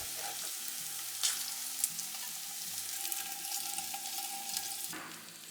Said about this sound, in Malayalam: ഈ ഭാഗം കൂടെ നമുക്ക് ഫ്രൈ ചെയ്യാം